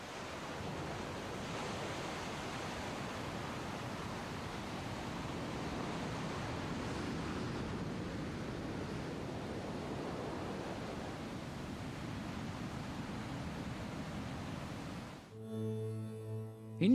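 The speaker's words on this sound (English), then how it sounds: "For several kilometers, this raging tide tears whole blocks of sediment out of the mountains." The Nile in raging flood, a torrent tearing silt and sediment from the mountains, roars as a steady, dense wash of rushing water that holds unbroken for most of the stretch before cutting off abruptly.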